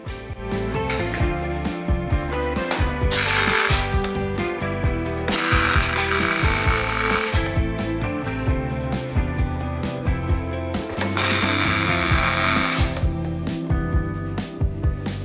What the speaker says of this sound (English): we're gonna tack that and then see how it feels after that, how it looks